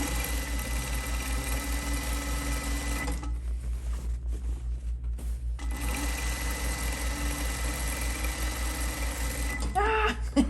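A sewing machine roll hems at high speed, its needle motor whirring with a steady rapid clatter that pauses for a few seconds midway, then resumes, with faint stirring sounds near the end.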